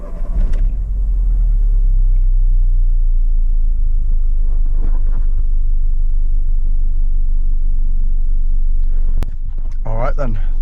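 Seat Arosa car driving on a road, a low steady engine and road rumble from inside the cabin, loud and continuous, with a brief higher engine note near the end and some talk.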